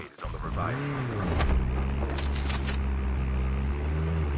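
A boat engine drones loudly and continuously in a video game, with rushing water and wind noise and a voice briefly heard over it.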